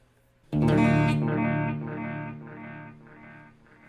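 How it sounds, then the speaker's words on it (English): A Caline Ghost Rain reverb-delay pedal on electric guitar: one loud strummed chord blooms into a wash of reverb, followed by several fading repeats spaced about half a second apart that slowly decay, with no voices. "It really is a reverb delay."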